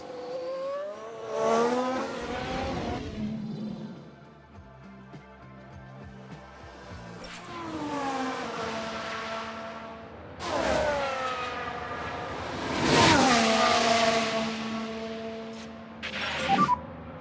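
F1 Manager 2022 race cars from the 1991/2000 Tyrrell era in a replay spinning out, with engines revving and wailing past in several loud swelling passes and tire noise between them.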